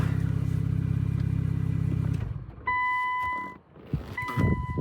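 A running Infiniti Q60 Red Sport, which has a check engine light for a valve fault, idles with a steady pulsing rumble for about two seconds and then shuts off, followed by an electronic chime and clicks.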